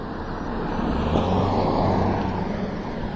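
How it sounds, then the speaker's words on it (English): Cars pass on a road heard from a modified Lectric XP 2.0 ebike, with a broad rushing swell of tire and engine noise rising and fading close by, blended with steady wind rumble. "I got 2 more cars coming the other way now."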